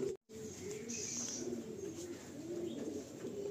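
Blue-beaked pigeons in a loft coo softly in repeated low rolling phrases, close and quiet, with faint background noise and no talking.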